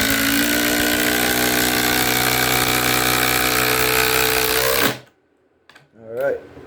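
A Ryobi subcompact impact driver drives a 5-inch Spax lag screw with a loud, steady hammering buzz that holds for about five seconds and then cuts off, followed by quiet and a brief voice.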